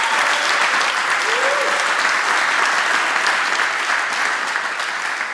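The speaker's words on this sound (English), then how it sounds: "Maybe an applause for the organizers." A tech event crowd in Zurich gives the organizers a round of applause, with loud, continuous and evenly textured clapping that holds steady throughout.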